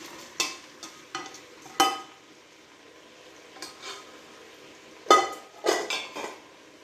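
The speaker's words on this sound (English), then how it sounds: "So what I'm going to do is add the rest of the pork back in." Pork pieces go back into a quick cooker, with close, irregular clatters of a utensil scraping and stirring against the pot over a faint sizzle, no voices.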